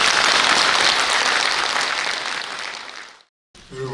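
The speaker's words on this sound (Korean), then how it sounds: "박수 한번 치세요" A crowd claps at a national tea-life leaders' training gathering. A burst of dense applause lasts about three seconds and tapers off, followed by a brief silence and then a voice starting to speak.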